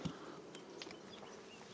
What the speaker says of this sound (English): I've got loads of bees now up here.